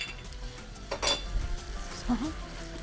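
Bulgur and tomato sautéing in a pan give a soft sizzle, with a spoon stirring and clinking against the metal in a home kitchen; quiet, close and brief.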